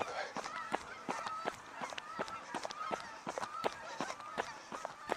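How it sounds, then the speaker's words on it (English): Geese honking repeatedly overhead, a steady scatter of calls from a flock passing at moderate distance. "There's a squadron of geese."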